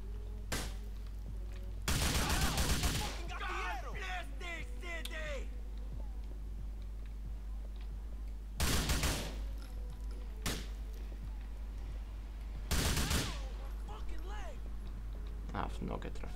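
Three loud bursts of gunfire from Grand Theft Auto IV, each about a second long and spaced several seconds apart, over a steady game background with scattered smaller thumps; someone comments between the bursts.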